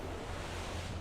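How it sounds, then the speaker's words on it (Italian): Lake water at Lake Garda laps and washes steadily in a broad, continuous wash with a low rumble, fairly close and unbroken, with no voices. "si sente l'acqua del lago"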